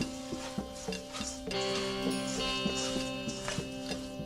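Kale being mixed by hand with kimchi sauce in a bowl, giving close, wet squelching and rustling in steady rhythmic squeezes, with a faint tonal hum in the background.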